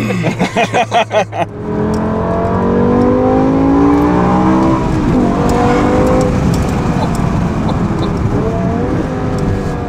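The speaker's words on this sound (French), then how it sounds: "Tiens, là, tu l'entends. Incroyable. C'est une Formule 1." A Formula 1 race car engine revs loudly and continuously, its pitch climbing and falling through gears, preceded by a few rhythmic pulsing bursts at the start; a voice is faintly present.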